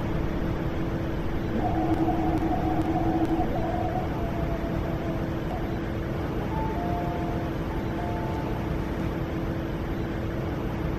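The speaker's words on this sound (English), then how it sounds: "A nine-car train to Botan is arriving." A nine-car MTR East Rail Line train in the Hmmsim 2 train simulator game rumbles steadily into a station, a continuous low roar with faint tonal whines rising over it and no one speaking.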